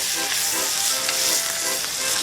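Bacon frying on a cold morning, a loud, close, steady sizzle and crackle with faint rhythmic scrapes or clinks underneath, no one speaking.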